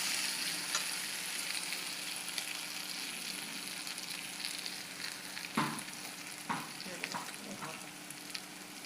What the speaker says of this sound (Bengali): এবারে ভালো করে কষাবো মশলাটার সঙ্গে